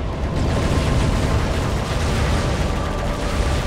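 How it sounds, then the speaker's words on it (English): A MAC cannon fires in the Halo Wars video game, a dense, sustained roaring rumble like a massive blast, loud and unbroken throughout with no voices. "let's fire this MAC cannon."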